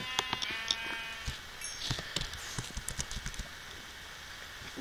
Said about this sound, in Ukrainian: О, вівця, вівця, вівця.